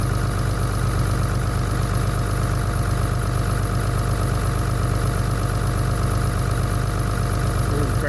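A Dodge Cummins diesel engine idles steadily with its clutch fan barely turning, a constant low rumble with a faint ticking knock running unbroken and close throughout.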